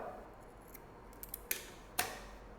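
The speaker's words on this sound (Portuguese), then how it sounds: "eu dou um pique, ó, nos dois cantos. Venho aqui com a tesoura" Fabric scissors snip notches into the folded corners of a trapezoid box toiletry bag being sewn, giving a few quiet, crisp clicks spaced apart in a calm room.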